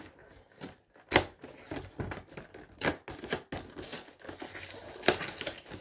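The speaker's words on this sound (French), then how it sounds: "Je vais prendre mon ciseau parce que c'est vraiment pas évident à ouvrir." Scissors cutting open gift box packaging, irregular close snips and crinkles of card and plastic in quick, uneven bursts with no talking.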